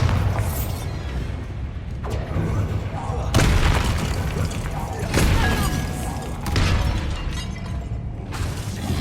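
Confringo and Bombarda blasting spells in Hogwarts Legacy go off as several heavy booming explosions, roughly every two seconds, with crackling debris and game effects between them.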